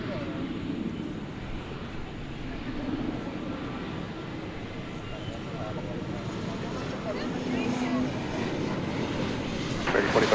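A Cathay Pacific airliner at DFW Airport at night, heard as a steady, distant low jet roar that swells slightly toward the end.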